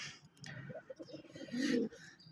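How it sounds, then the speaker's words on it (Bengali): Several pigeons coo close by in a loft in low, soft, throaty murmurs, overlapping one another, with one fuller coo standing out near the end. "আমার এই ধাপড়িতে দেখতে পাচ্ছেন অনেকগুলো বেশ কবুতর"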